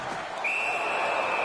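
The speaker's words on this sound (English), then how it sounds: "Puck covered, whistle blown." A referee's whistle sounds in the NHL 17 hockey video game, one sustained shrill blast over a loud arena crowd roar.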